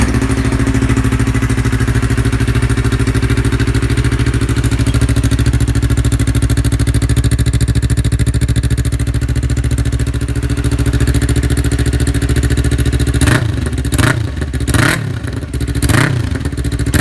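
A Yamaha R3 motorcycle fitted with a new exhaust muffler runs loud and close, holding a steady rev for a long stretch before several sharp throttle blips rise and fall near the end.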